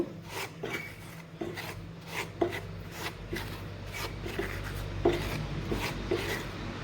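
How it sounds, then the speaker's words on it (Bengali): Semolina dry-roasting in a pan, stirred so that a steady dry scraping and rasping runs throughout, with regular strokes repeating at a moderate pace, close and fairly loud, and no voices. "সুজিটাকে আমি একটু হালকা লাল করে ভেজে নেব"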